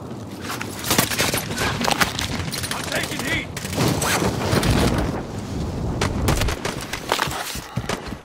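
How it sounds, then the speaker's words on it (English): Gunfire in Call of Duty Warzone, a dense run of sharp shots cracking repeatedly through the clip, with a pistol among the weapons firing amid the battle noise. "Got him with a pistol."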